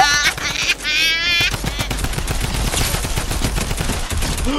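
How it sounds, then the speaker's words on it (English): Rapid, continuous automatic fire from a drum gun in Fortnite, a loud dense stream of shots running the full length, with a brief game sound effect at the start. "My drum gun is better!"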